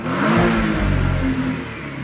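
A Porsche engine revs in neutral, rising in a quick, loud, close-up surge and then holding a throaty drone for about two seconds, with no speech.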